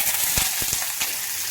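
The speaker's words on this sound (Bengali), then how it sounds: "পেঁয়াজটা দিয়ে দিচ্ছি কড়াইতে।" Onion frying in oil in a kadai alongside garlic and dried chilli paste, a steady broadband sizzle with a few soft knocks of a spoon against the pan, close and continuous, no talk.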